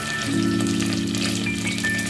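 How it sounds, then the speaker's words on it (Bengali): Potatoes fry in hot ghee in a pan, giving a steady, close, dense sizzle with no talking. "ম্যাক্সিমাম 5 মিনিটসের মধ্যে আলুগুলো ভাজা হয়ে যাবে।"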